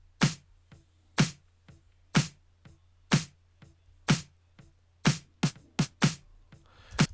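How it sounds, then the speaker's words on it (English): Isolated snare stems from a song crack out on a steady backbeat, then a quick fill of rapid hits near the end, with a soft low pulse underneath. "The snares together sound like this."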